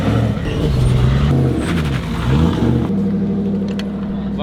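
A Toyota GT86 drift car's engine catches and revs up and down in a few rising and falling surges, loud and close, then settles into a steady idle.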